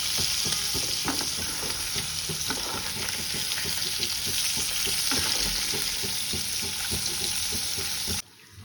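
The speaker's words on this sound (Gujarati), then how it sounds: "મેં આમાં થોડું બટર વધારે જ લીધું છે તો પછી આપણે આ રીતના ટર્ન કરી લઈશું" Paneer cubes fry in plenty of butter in a pan and are turned over, making a dense continuous sizzle with repeated scraping and stirring strokes. The sound is near and steady, then drops off abruptly at the end.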